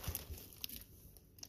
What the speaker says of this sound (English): they come with this plastic bag